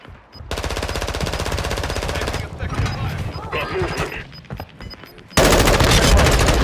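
Warzone 2 video game gunfire: rapid, loud automatic bursts in a sustained stream, with a break of scattered shots in the middle and another heavy burst at the end, over faint voices.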